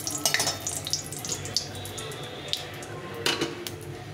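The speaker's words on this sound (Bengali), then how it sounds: "একটু ভাজা ভাজা করে নেবো শুকনো লঙ্কাটা" Dried red chilli frying in hot oil as tempering for chana dal, with a soft sizzle under light metallic clinks of a spoon against the pan, close and fairly quiet, with no voices.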